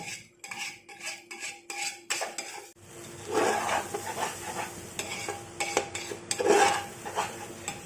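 Metal spoon scraping and clinking rhythmically against a pan, followed by a louder steady sizzle as food fries while being stirred.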